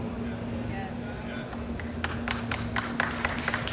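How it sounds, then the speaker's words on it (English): Audience clapping at a pickleball equipment panel, starting partway through as a scattering of sharp, uneven claps from a small crowd, heard under ongoing talk. "I don't know why you're clapping."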